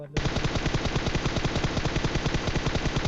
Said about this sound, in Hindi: यहाँ पे मैंने जैसे उसको थोड़ा बहुत डैमेज उनका पाने के लिए फायर किया